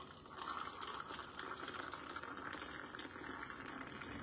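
Liquid pours steadily into a cup in a home kitchen, a continuous splashing gush that holds fairly loud and even for about four seconds with no talking.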